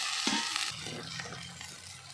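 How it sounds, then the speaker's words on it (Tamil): Chopped onions sizzling and frying in a clay pot with steady crackle, punctuated by a few stirring scrapes; no talking. "நறுக்கி வச்சிருந்த வெங்காயம் போட்டு வதக்கிக்கலாம்."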